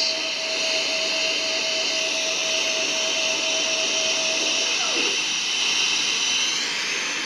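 Jet airliner engines roar at a steady high pitch during takeoff in the flight simulator game RFS. A Batik Air jet is at the runway, and the sound is loud and continuous, with a tone that shifts slightly near the end.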